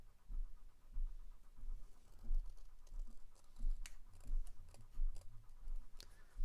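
Scissors, a pair of Tim Holtz craft scissors, cut around a paper label for an entomology case in a series of close, crisp snips and scratchy paper rasps at an uneven rhythm, without talk.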